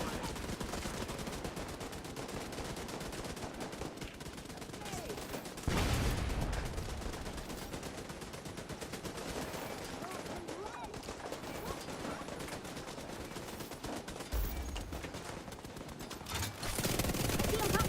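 Automated turrets in a video game fire rapid, continuous bursts of gunfire, a dense crackling barrage that runs throughout with a few heavier blasts layered in.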